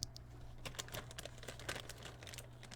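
Keys clack as someone types on Sorrow Keys Strawberry Wine linear keyboard switches, a quick irregular run of soft close-up keystrokes over a low background hum.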